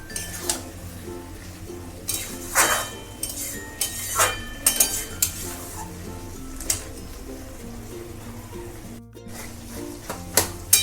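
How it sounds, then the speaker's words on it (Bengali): Ridge gourd and potato being mixed with poppy seed paste in a pan, heard as repeated metallic clinks and scrapes of a spoon against the pan in an irregular rhythm, fairly close, with no talking. "পোস্ত বাটা দিয়ে আমি কিছুক্ষণ এভাবে মিশিয়ে নিলাম।"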